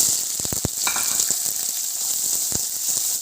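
Sliced big onions and green chillies sizzle steadily in a hot pan for a Tamil keerai poriyal, with a few sharp utensil clacks against the pan early on and another knock near the end.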